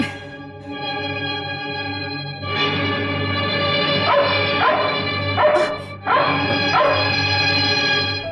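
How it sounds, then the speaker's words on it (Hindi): A dog barks repeatedly in a film scene, loud and close, in bursts with short yips and whimpers between them. "ये कुत्ता मुझे देखकर भौंक रहा है।"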